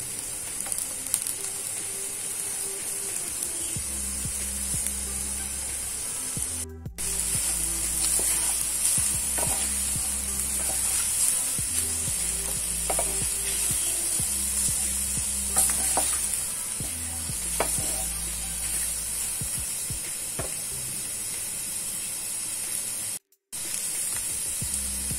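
Chopped onion sizzles and spatters steadily in a hot pan, with repeated scraping stirs over a continuous loud frying hiss and two brief dropouts.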